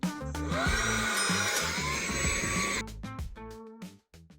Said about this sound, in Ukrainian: Це не те, про що ви подумали, це пилосос.